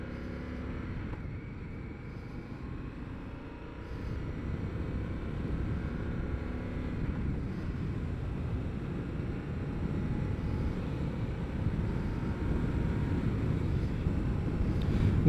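A 2022 Indian FTR motorcycle rides along, its engine a steady low rumble that builds slightly as speed rises, with wind noise blowing across the microphone throughout.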